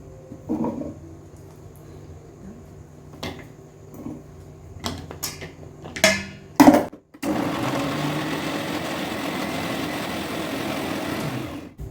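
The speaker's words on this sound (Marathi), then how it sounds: "सर्व त्याचा भोपळा जो कापून ठेवला आहे तो आता मिक्सरमध्ये करून घेते" Kitchen mixer grinder pureeing chopped pumpkin, preceded by a few clicks and clatters of the jar being fitted, then a steady loud whirring grind running uninterrupted for several seconds.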